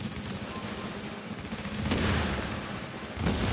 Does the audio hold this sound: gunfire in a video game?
yes